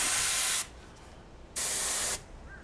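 An airbrush sprays paint onto a part in two loud, steady hissing bursts, with a short quiet pause between them and a near-silent tail after the second.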